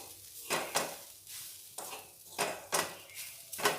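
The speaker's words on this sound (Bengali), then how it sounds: "এখনও চিনিটা খুব ভালোভাবে গলেনি, আরও অনেক নাড়তে হবে।" Repeated scraping strokes of a spoon or spatula stirring sugar and grated coconut in a pan over low heat for narkel nadu, about six to seven rhythmic swishes, close and fairly quiet.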